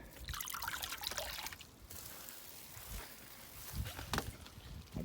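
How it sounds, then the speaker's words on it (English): Water trickles and drips steadily as a potted tree sits submerged in a tub of water, air bubbling out of the soil; a close, continuous liquid sound with no talking. "I'll just take the trees and submerge them in the tub"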